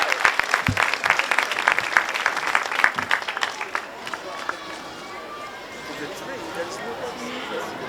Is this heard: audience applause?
yes